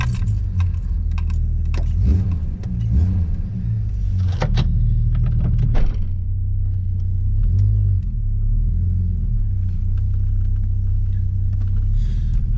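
1982 Ford Falcon XD drives with a deep, continuous engine rumble heard from inside the cabin, overlaid by occasional rattles and jangling clicks and brief swells as it accelerates.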